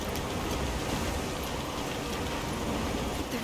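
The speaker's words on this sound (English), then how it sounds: "The rain's really coming down." Heavy downpour of rain in Monster Hunter Wilds, a steady dense roar of rainfall that stays loud and unbroken throughout, heard alone with no voices.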